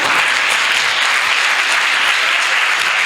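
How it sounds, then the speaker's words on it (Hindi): Dense, loud applause from an audience at a comedy poetry recital, sustained and evenly spread for a few seconds. "तालियां आपकी इनकी हिम्मत बढ़ाए"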